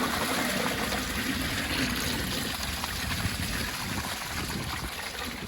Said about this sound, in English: here's a flush. Let's see what it does.